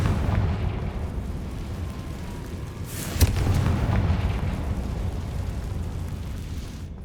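Confringo fire spell blast from Hogwarts Legacy: one sharp burst at mid-clip sits over a steady low rumble of game ambience, with no talk.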